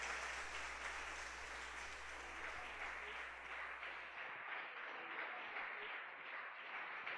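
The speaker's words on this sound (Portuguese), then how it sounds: "as palmas glorifiquem ao Senhor" A church congregation claps together to glorify the Lord, a sustained even applause heard from a slight distance at low level, with a steady hum beneath it that cuts off partway.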